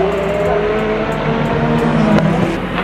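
Race cars roaring past at night during the 24 Hours of Le Mans, a loud continuous engine drone with rising and falling pitch as cars pass close by.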